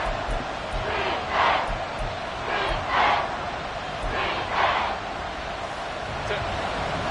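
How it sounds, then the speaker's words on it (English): A packed Arrowhead Stadium crowd roars at an NFL football game, a dense continuous wall of noise swelling in repeated loud surges, with a commentator talking over it. "The Arrowhead crowd in full roar."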